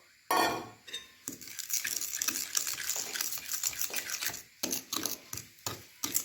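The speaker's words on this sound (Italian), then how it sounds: "Quindi vado a mescolare poi anche lo zucchero in questo modo." Spoon clinking and scraping in a bowl as sugar is stirred into a melted ricotta mixture for a soft ricotta and chocolate ring cake, a steady run of close, irregular taps and scrapes with no talking.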